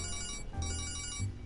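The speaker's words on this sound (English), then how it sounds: "That's a good ringtone." A phone ringtone plays in Persona 5 Royal, a steady electronic melody of layered tones with a short dip midway, close and clear with no talking.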